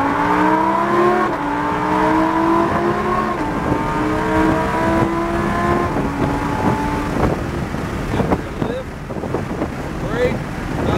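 A Lamborghini Huracan accelerates hard on a track in Tampa, Florida, its engine note climbing through rising harmonics with gear shifts, loud and continuous under wind buffeting, with an instructor speaking over it.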